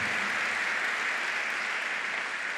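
A church congregation gives sustained, even applause, a dense wash of clapping at a steady moderate level throughout, with no individual voices rising above it.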